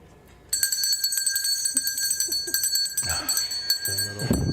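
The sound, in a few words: bell ringing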